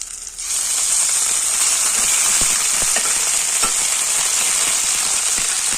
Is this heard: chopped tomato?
yes